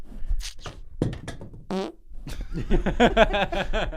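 A voice imitates a creature's greeting as a rapid string of loud, close fart noises, several sputtering bursts over a few seconds.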